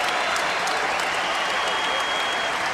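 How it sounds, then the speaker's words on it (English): A basketball arena crowd at Mackey Arena cheers and applauds in a steady, dense roar with whistles rising through it, loud and continuous throughout. "The crowd back into it at Mackey."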